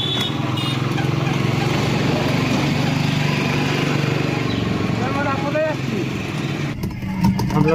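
A motorbike engine runs steadily near and loud for a Kolkata-to-Mandarmani road trip, a buzzing mechanical drone throughout with people talking over it.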